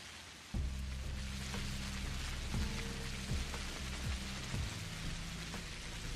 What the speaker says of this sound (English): Let's get inside so we haven't got rain sounds